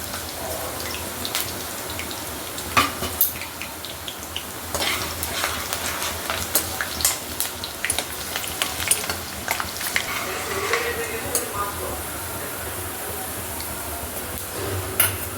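Brinjals frying in a pan of oil with bay leaf, cardamom, cloves and shahi jeera, a soft steady sizzle broken by scraping stirs and small clicks of the spatula, fairly quiet and continuous, no talking.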